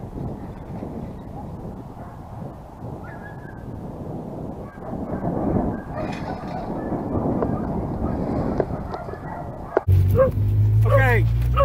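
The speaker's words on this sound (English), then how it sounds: "And he's going off on the cows." A puppy barks and yips at cattle from a ranch utility vehicle; rough outdoor rumble and movement noise dominate before sharp close barks and whimpers break in near the end, with people talking throughout.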